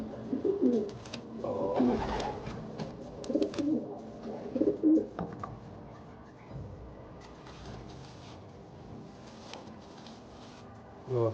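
Racing pigeons coo in a loft in several soft, throaty bursts close by, followed by quieter rustling and faint background noise.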